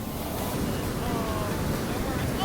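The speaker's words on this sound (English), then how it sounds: "Look at these waves." Surf washing onto a beach, a steady broadband wash of breaking ocean waves with wind rumble on the microphone, close and continuous, with faint voices in the background.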